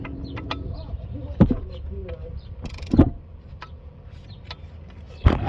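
A socket wrench with a 17 or 18 mm socket works a bolt loose on a car's front end. Three sharp, close metallic clicks and cracks come at uneven intervals over quiet workshop background.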